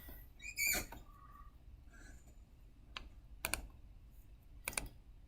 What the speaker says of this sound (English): I'm going to type in view my resume.